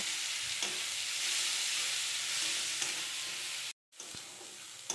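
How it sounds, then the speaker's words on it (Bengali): Dried fish (shutki) frying in leftover eggplant-frying oil in a wok, giving a continuous loud hiss and sizzle with a few faint pops and one brief dropout near the end. "ওই তেলের মধ্যেই আমরা শুটকিগুলিকে ভেজে নেব"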